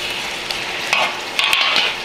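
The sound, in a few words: chicken stirred and sizzling in miso sauce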